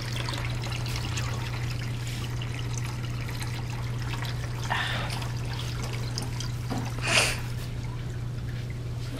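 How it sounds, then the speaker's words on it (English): Water trickles steadily as a hydroponic system's nutrient solution is siphoned out, a soft continuous dribble over a constant low pump hum, with a couple of brief louder gurgles. "All the water is getting sucked out."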